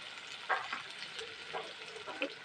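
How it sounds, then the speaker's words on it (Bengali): Chopped green chili, whole garlic cloves and minced ginger fry in hot oil in a pan for a fish paturi masala, a close, steady sizzle with a few brief stirring scrapes and no voices. "আদা কুচি দিয়ে দেবো, একটু ভেজে নেবো।"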